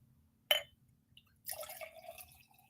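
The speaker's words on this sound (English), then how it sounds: "pouring myself the last of this ginger ale" Ginger ale pouring into a glass, a sharp clink at the start, then a fizzy gurgling pour that trails off into light bubbling, close and fairly quiet.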